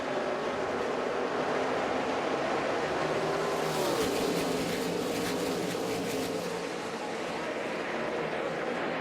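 NASCAR Nationwide Series race cars roaring away at the green-flag start of the Royal Purple 300 in Southern California, a steady, loud engine drone from the whole field, with a commentator talking over it.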